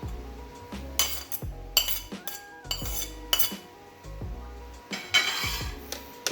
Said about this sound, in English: so shall we try to make this into a paste now?